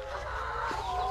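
Egg-laying hens clucking on a small farm, a dense, continuous chorus of many birds close by, steady and fairly loud with no talking over it.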